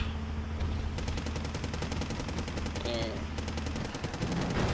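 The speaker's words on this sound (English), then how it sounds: "trying to shoot his MI8 with his machine gun" Machine gun fire in the strategy game Wargame AirLand Battle, aimed at an Mi-8 helicopter: rapid, evenly spaced bursts run steadily over a low engine drone, with a voice partly underneath.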